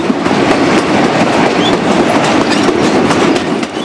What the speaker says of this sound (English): A train leaves Jacobabad Junction early morning.